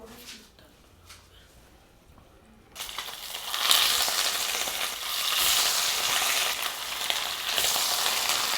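Rohu fish rubbed with salt and turmeric hits a hot pan after a quiet start, breaking into a loud, steady sizzle of frying that crackles on close by.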